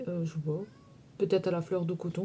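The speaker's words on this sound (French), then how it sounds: "Désolée pour mon chat, il est en dessous du lit, il me casse un peu les bonbons." A pet cat under a bed meows a few times while someone talks nearby, the cries partly mixed in with her speech.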